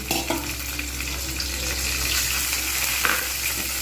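Cumin and garlic paste sizzles loudly in a pan as a splash of water goes in for a vegetarian Punjabi-style rajma curry, a steady hissing fry with stirring scrapes throughout, no talk.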